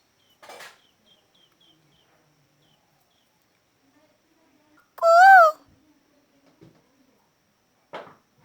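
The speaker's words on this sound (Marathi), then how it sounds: "कोकिळा गाते." An Asian koel, hidden among trees, gives one loud clear rising whistled call midway, with faint clicks and brief knocks before and after.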